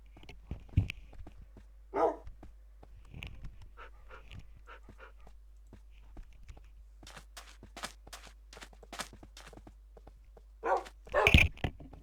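Three puppies bark and pant in short, scattered bursts, with a quick run of rapid yips midway and a louder pair of barks near the end, against a quiet background.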